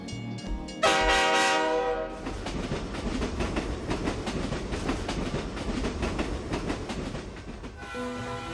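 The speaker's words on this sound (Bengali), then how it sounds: "মাঝে মাঝে ঝনঝন শব্দ তুলে পার হচ্ছে পুরনো লোহার ব্রিজ, আর থেমে থেমে বাজছে ট্রেনের হুইসল" A night train rattles across an old iron bridge past dark paddy fields, its wheels clanking in a rapid steady rhythm. A loud whistle sounds at the start and again near the end.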